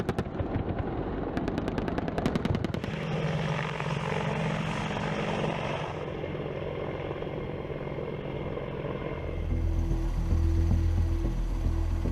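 An Apache attack helicopter roars close by with a dense, rumbling rotor and engine noise, rapid popping bursts of gunfire early on, then a steady heavy drone that deepens toward the end.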